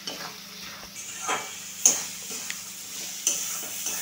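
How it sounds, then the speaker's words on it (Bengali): A spice paste being mixed into vegetables in a pan makes soft scraping and light clinks of the utensil against the pan, with a low sizzle underneath and a few sharper taps, all near and fairly quiet. "সবজির সঙ্গে খুব ভালো করে মিশিয়ে নিলাম"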